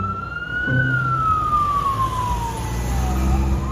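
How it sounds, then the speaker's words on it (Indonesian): A toy fire truck siren wails steadily nearby, one long electronic tone sliding slowly downward over a faint buzzing hum. "Mobil pemadam kebakaran."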